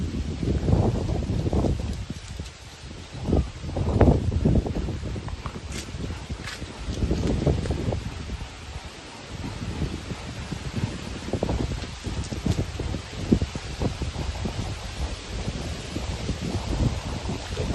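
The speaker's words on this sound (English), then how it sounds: "So windy here right now." Strong wind gusting outdoors at a home building site in the Philippines, a continuous low roar and rustle that swells and buffets the microphone, with no voices.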